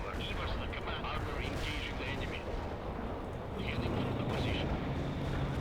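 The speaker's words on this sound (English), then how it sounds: "let's launch another artillery barrage of that area" Artillery barrage in World in Conflict: a continuous, rumbling wall of distant shell impacts and explosions, steady and loud throughout, with voices talking over it.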